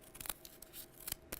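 Scissors cut through cardboard in a quick run of close, crisp snips, with a few clustered crunches at the start and two sharper cuts near the end.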